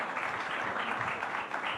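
A studio audience at a live NDTV book event with Jaya Kishori claps for Javed sir, a brief, even wash of dense clapping at moderate loudness with no voices on top.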